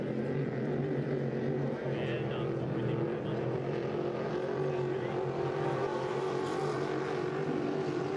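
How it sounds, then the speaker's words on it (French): H350 hydroplane racing boats run on water during a St-Félicien race, their engines a steady distant drone heard beneath continuous commentator talk. "Et Léger qui danse légèrement sur ses pontons à l'entrée du virage numéro 1"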